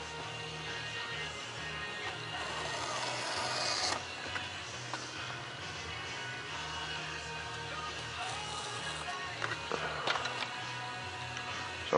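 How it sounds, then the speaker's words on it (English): A blade cutting out a 28 millimeter thrust tube opening in the plans for a micro F1-17 stealth fighter model: quiet scraping and rasping strokes, close and intimate, with small ticks and a sharper scrape near the end. "Just go ahead and cut out for that thrust tube right now"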